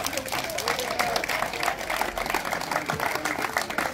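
An outdoor crowd at a village street show by a performing troupe claps for a participant, brisk scattered applause running steadily throughout, with a performer's voice over it.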